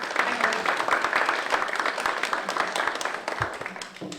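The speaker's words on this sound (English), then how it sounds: "Please give them some applause." A live audience applauds to welcome two guest authors onto a panel at a book event, a steady wash of many hands clapping that holds for several seconds before tapering off.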